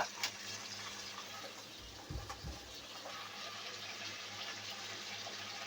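A little water is poured into a pan of flat bean and potato curry cooked with mustard paste, a soft, steady liquid rush with a brief splash partway through, faint against low background hiss.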